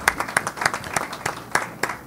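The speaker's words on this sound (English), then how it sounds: "So I want to give you all a round of applause." Sparse clapping at a graduation ceremony, a handful of distinct claps at an uneven rhythm over about two seconds, fairly close and moderately loud.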